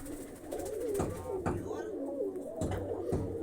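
A pigeon cooing nearby, several low rolling coos repeating in a steady rhythm, fairly loud and alone.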